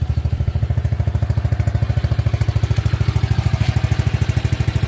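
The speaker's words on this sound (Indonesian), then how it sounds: "kita gas terang bosku kondisi mesinnya sangat-sangat halus normal banget" A Honda C70 motorcycle engine in cream livery runs close by with an even, rapid low putter, each firing pulse distinct and regular throughout, steady in loudness with no voices over it.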